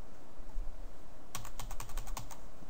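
Rapid keystrokes on a computer keyboard start about halfway through, a close, quiet burst of clicks following a near-silent stretch.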